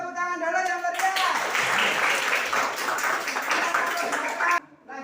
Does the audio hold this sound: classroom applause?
yes